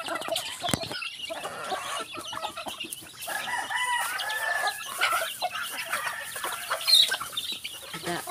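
Backyard chickens at feeding time, a busy flock clucking and cackling close by with a rooster crowing among them, continuous overlapping calls with no talk.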